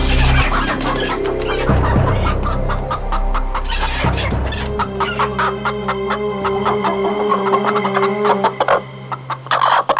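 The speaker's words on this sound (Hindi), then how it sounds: "अरे ये तो मुर्गियाँ हैं।" Chickens cluck steadily in a noisy group, with an occasional louder squawk, close and fairly loud with no voices.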